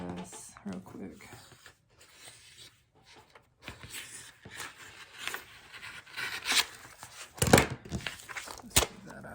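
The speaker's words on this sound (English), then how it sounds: "I'm just going to cut off this excess real quick." Excess material trimmed off a handmade wood door hanger, a series of irregular snips, scrapes and tearing crackles that grow louder toward the end, with occasional quiet voice underneath.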